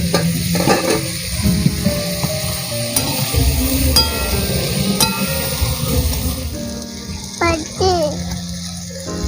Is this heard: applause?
no